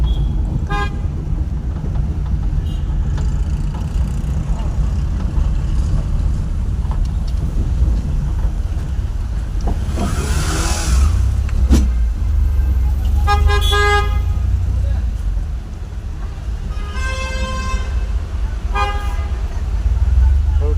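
Busy road traffic on a bypass near a town circle on election day, a steady roar of passing vehicles and wind noise, broken by several short car horn honks, some repeated in quick toots.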